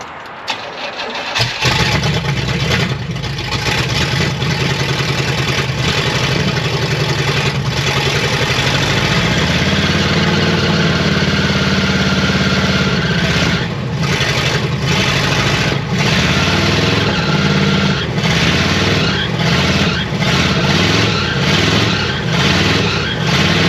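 A 1972 Oldsmobile 98 being revived cranks briefly and fires up, then runs loud and close for about twenty seconds with its idle rising and falling as it is revved, with no talking.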